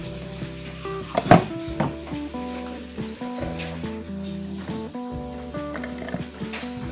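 Fish frying in hot oil in a home kitchen gives a steady sizzle, with pans clanking and busy background noise on top and a sharp knock near the start.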